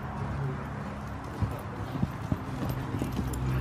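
Horse cantering in an arena, hooves clip-clopping in a steady rhythm over a low, continuous background rumble, with a few sharper hoof strikes standing out.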